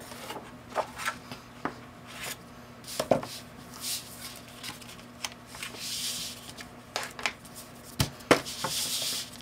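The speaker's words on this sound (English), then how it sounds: "then I'll cut the excess off this other side" Paper being trimmed off the edge of a scrapbook layout, heard as scattered soft snips, scrapes and light taps of paper and tools at close range in a quiet room, irregular and faint.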